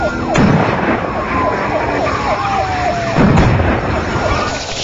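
Police response vehicle siren wailing loudly in repeated rising and falling sweeps over road and engine noise, close at hand.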